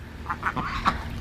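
Pet ducks give several short, close quacks in an irregular burst of about four calls within a second, with no talking.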